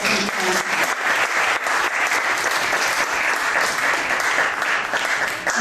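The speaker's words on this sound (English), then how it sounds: "So if we can give them all a round of applause." A crowd at a Sunday school fall graduation in 2007 claps for the graduates, loud, dense applause sustained evenly for several seconds with no break or speech over it.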